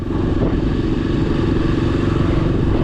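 A motorcycle cruises along a road toward Alibag, its engine drone and wind rush loud and constant from the rider's position, with no talking.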